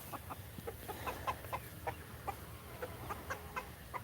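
Rooster clucking in a farmyard to call hens and young cockerels over to food, a steady series of short, close, moderately loud clucks repeating every fraction of a second.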